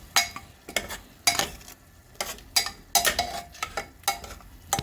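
Three tomatoes stirred and cooking in a pan for mutton gravy, with repeated scraping strokes of a spoon against the pan in an uneven rhythm over a soft sizzle, close and fairly loud.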